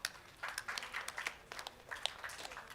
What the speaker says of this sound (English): Give her a big round of applause.